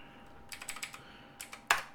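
A computer keyboard is typed on in short, quiet bursts of clicky keystrokes close to the mic, with a louder final key press near the end and no voices.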